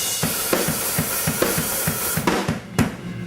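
On a rock drum kit, a fill of rapid tom and snare hits leads into a verse groove, steady kick and snare strokes pulsing about twice a second, crashes near the end, close and clear with no voices.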